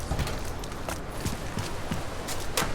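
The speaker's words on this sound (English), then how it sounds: "a horse?" Horse hooves in Deus Ex: Mankind Divided sound as a run of sharp clip-clop knocks at a brisk, uneven pace, close and moderately loud over background noise.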